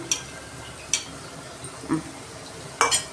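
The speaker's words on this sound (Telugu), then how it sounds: "మంచిగా కలబెడుతున్నా" A spoon stirs goat head curry with coconut powder in a pan, giving a few separate scraping clinks spaced about a second apart over a faint sizzle, close and alone.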